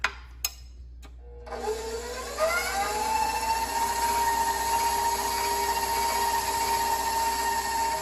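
An electric mixer whirs steadily as it beats batter in a bowl, starting after a few clicks, then climbing to a higher speed and holding a loud, even motor whine.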